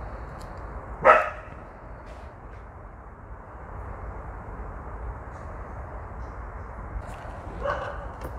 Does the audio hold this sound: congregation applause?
no